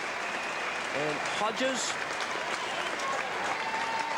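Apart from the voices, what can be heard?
crowd applause at football match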